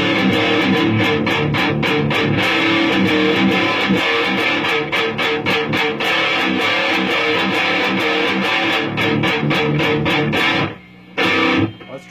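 An electric guitar plays through a modded Marshall 800 amp with heavy distortion, rhythmic chugging strums and sustained chords, loud and close, cutting out briefly near the end before a last stab.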